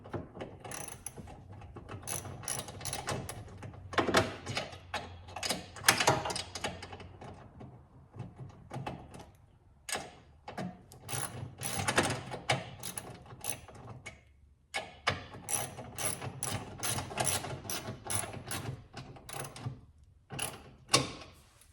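Ratchet clicking quickly as it snugs down 10 mm bolts on a Ford Bronco accessory, bursts of rapid close ticks separated by short pauses, fairly quiet and without speech.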